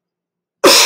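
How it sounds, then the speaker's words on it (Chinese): A single forceful, deliberate cough made after a deep breath, bursting out loud and close after a stretch of silence and lasting to the end. "所以我先示范一个有力气的咳嗽"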